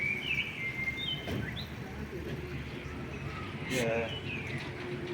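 Brief bird chirps sound off and on outdoors on a street in Kraków while a person's voice murmurs nearby.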